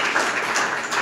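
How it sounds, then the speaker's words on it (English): Audience applause for event organizers at a meetup, a steady wash of many hands clapping at moderate volume, continuous through the short stretch with no talk over it. "A round of applause to them"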